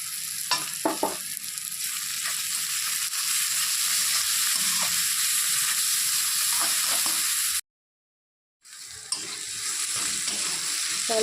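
Food fries in a pan with a constant bright sizzle close up, broken by occasional stirring scrapes, then a brief silent gap before the hiss resumes.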